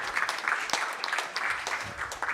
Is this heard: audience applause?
yes